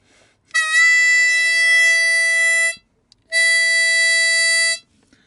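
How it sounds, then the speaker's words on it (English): A normal unbent note on a blues harmonica, played twice as clean sustained reedy tones of steady pitch, each held for a couple of seconds with a short gap between, loud and close with no talk. "Here's a normal unbent note."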